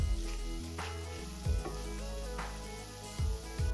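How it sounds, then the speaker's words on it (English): Anchovies and minced garlic sauteing in olive oil in a skillet, a faint, steady sizzle with a few brief louder stirring bursts. "Stir while sauteing for 2 minutes, then add 10 ounces of rinsed and drained canned clams."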